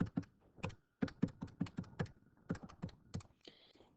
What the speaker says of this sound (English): Type it in your calculator.